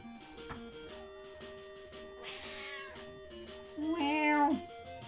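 A pet cat meows softly and repeatedly, close and fairly quiet, with a longer drawn-out meow near the end over a light musical background.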